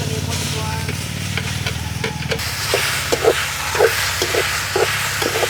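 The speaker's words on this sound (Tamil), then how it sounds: "நெய் ஊற்றி பூரண கொழுக்கட்டை செய்கிறதுக்கு பலாப்பழம் வதக்க போகிறோம்." Jackfruit sautéing in ghee in a pan for sweet kozhukattai filling, a loud continuous sizzle close up with rhythmic scraping stirs of a spoon against the pan.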